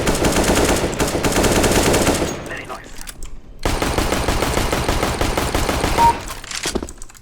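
Shooter video game gunfire: long rapid automatic bursts, loud and dense, with a short pause in the middle, and faint talking mixed in.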